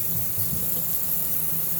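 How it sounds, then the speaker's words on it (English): Water draining out of a kitchen sink holding soaking sumac berries, a continuous, even rushing and gurgling wash that stays at a constant level for the whole moment. "you can see I'm draining and letting out some of the water"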